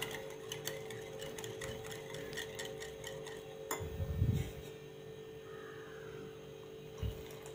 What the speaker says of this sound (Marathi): विस्करनेच आपण हे देखील छान मिक्स करून घेऊयात